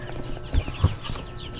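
Broiler chicks in a coop, a few soft clucks and peeps close by, with light rustling between the calls.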